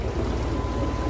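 A sailboat's engine revs higher while motoring along Florida's Intracoastal Waterway with a little sail raised, giving a steady, loud low rumble with a faint rhythmic throb and water and wind noise over it, and no talking.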